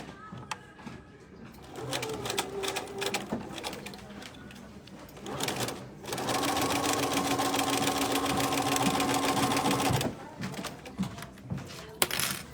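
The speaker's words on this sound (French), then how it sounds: "Donc je pique sur ma première couture" A sewing machine runs steadily for about four seconds, stitching a zipped vinyl pouch, with someone talking before and after and quieter handling noises around the seam.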